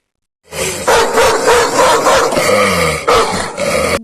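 A cartoon dog in a Bangla animated folk tale lets out a loud, sustained, booming bark that swells into a roar. It starts after a short silence and continues for about three and a half seconds.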